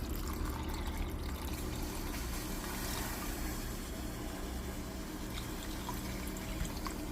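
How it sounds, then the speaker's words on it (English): Broth pours into a pot of homemade vegan vegetable soup in a continuous, soft liquid stream lasting several seconds, quiet and close, with no talking. "Now we're going to add broth."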